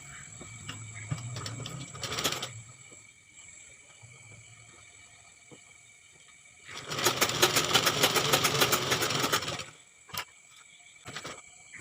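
A sewing machine stitches the folded edges of a fabric square in two quick bursts, one short and one longer, each a rapid mechanical clatter close up in a quiet room.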